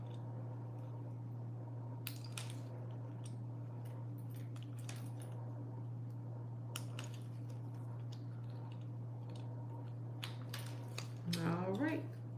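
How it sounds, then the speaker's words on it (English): Nail tip cutter clipping acrylic nail tips at a salon table, producing sparse sharp snips and clicks over a steady electrical hum, with a short burst of speech near the end. "So we're going to use the tip cutter, which is at a number 4,"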